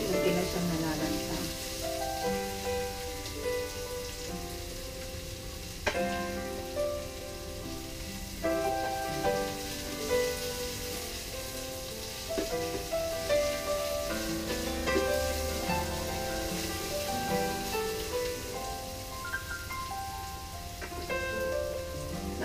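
Onions sauté in a pan for pork kilawin, a steady crackling sizzle that runs without a break, mixed with occasional stirring clinks and music playing underneath.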